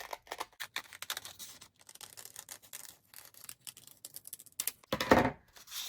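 Scissors snipping through folded scrap paper to cut out a half-heart shape, a run of short, crisp, irregular snips that grows louder and denser near the end, with no talking.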